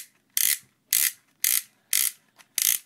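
A Milsig FS paintball magazine being wound by hand, five loud, evenly spaced ratcheting bursts with brief pauses and a faint click between, close up with no talk.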